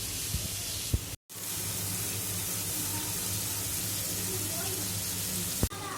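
Masala spice paste for chicken curry fries in oil with a steady, close broadband sizzle that cuts out for a moment, then resumes with a few faint clicks and stirs.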